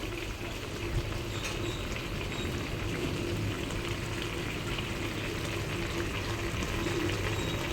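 A pot of spinach sambar with sambar powder, chili powder and onion boils steadily, a close, continuous bubbling and gurgling that holds at an even level throughout.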